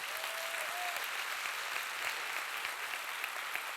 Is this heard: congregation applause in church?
yes